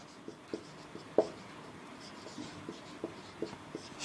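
Marker or chalk scratches across a classroom board in short strokes and taps, faint and close, as a teacher writes out a reasoning conclusion, with a low room background throughout.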